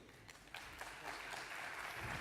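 An audience at a provincial film gathering in KwaZulu-Natal applauds the chairperson, a dense, steady wash of clapping that swells slightly louder as it continues, heard from within the room.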